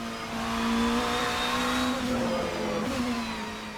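A Porsche 963 race car engine drones in the Assetto Corsa racing game at the Nordschleife, a loud, steady high-revving hum with slight pitch shifts between gears, continuous with no talking.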